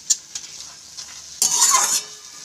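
Kharkol leaves with salt are stirred in a frying pan, a few light scrapes and clinks of a utensil followed by a half-second burst of hissing sizzle, close up with no talk.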